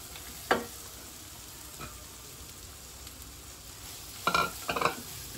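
Vegetables fry quietly in a pan with ginger and garlic, a soft continuous sizzle broken by a sharp stirring clank early on and a cluster of louder scrapes near the end.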